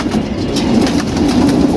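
Pigeons coo in a steady, low, rolling stream, loud and close, with no talk over them.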